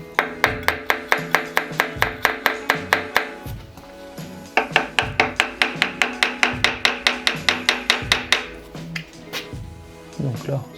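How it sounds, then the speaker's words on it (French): A hammer tapping on the camshaft area of a Peugeot 205 GTI engine, giving rapid, evenly spaced metallic knocks in two long runs, close and loud, with someone talking over them. "Je vais essayer de tapoter légèrement au marteau."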